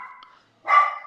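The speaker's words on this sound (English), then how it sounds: "Sorry, that's my dog, Lori." A pet dog named Lori gives a single loud, close bark after a brief quiet gap, preceded by a softer whine-like yelp.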